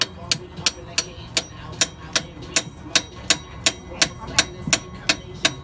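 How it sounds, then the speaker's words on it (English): A clutch part on a car is driven in with a socket under steady hammer blows, about fifteen sharp, evenly spaced metallic strikes, close and clear. "Jarvis, you're just gonna smack it in with the socket size of it"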